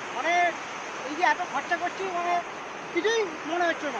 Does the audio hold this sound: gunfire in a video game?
no